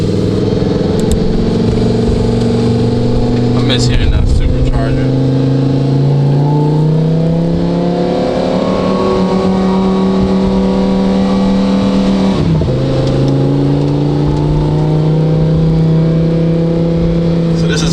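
A Lamborghini Huracan EVO with an aftermarket exhaust in race mode revs loudly and climbs through manually shifted gears, its engine tone rising in long pulls with a sharp break between shifts, close and with a voice over it.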